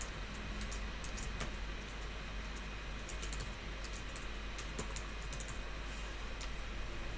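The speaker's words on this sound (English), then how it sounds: "I'll type that back in." Steady typing on a computer keyboard, quick irregular key clicks running throughout at close range over a constant low hum, with no voices.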